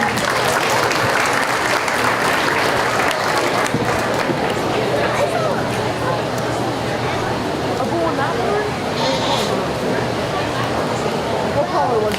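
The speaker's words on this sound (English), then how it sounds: "Let's give our judge a round of applause, everybody." Steady, dense applause from an audience at a county fair goat show keeps going for several seconds, loud and close, with some chatter mixed in.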